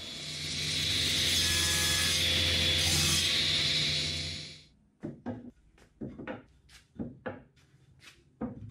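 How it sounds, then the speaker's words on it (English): A table saw with a cross cut sled cuts 3/4 inch poplar strips for a hall tree face frame, a loud steady whining cut for about four seconds that then stops, followed by quieter wood handling knocks. "then I used the cross cut sled to cut the vertical pieces"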